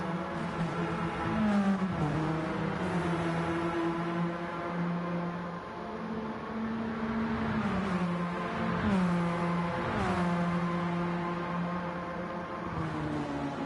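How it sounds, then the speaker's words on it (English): Several race cars sweep past in a group, engines droning and rising and falling in pitch through repeated gear changes, steady and moderately loud throughout. "These cars sound good passing by in a group."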